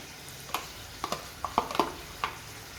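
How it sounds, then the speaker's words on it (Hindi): Onion puree frying in a pan while a spoon stirs it, giving scattered scraping clicks and taps over a soft, steady sizzle, close up and quiet, with no voices. "अनियन प्यूरे डाल दी। इसको लगभग 5 मिनट अच्छे से चलाइए"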